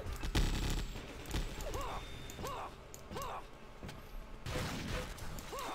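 Rapid gunfire and sniper shots in a Weapons Factory Arena 3v3 streetball match, sharp cracks and bursts with repeated weapon whoops, while players talk and shout excitedly over the action.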